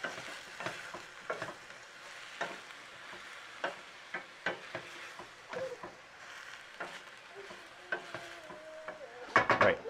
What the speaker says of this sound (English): we're starting to get some nice sizzle on the onions and peppers here